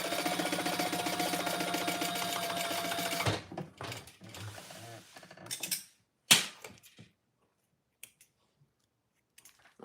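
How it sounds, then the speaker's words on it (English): Sewing machine basting along the sides of fabric, a steady mechanical whir running for about three seconds, then short bursts and clicks with quieter pauses and a few sharp knocks. "And then I just baste the sides."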